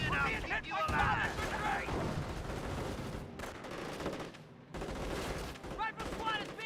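Gunfire from the World War II strategy game Company of Heroes, rapid bursts of rifle and machine-gun fire with booming impacts, played under a game voice calling out combat alerts.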